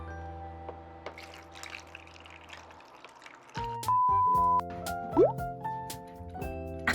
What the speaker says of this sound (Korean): 일단 물을 한번 먼저 넣어볼게요